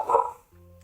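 A dog in a house gives a single short bark, fairly close and clear, followed by a faint low hum.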